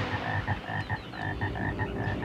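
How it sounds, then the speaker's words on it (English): Frog croaking in the horror movie Frogs: repeated loud, rhythmic croaks pulsing about four times a second, close and prominent over a low background. "Frog!"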